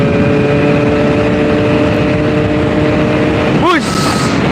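A Yamaha RX two-stroke motorcycle fitted with an aftermarket exhaust runs loud and close, its engine note sweeping up and down through the gears, then dropping as the throttle is released near the end.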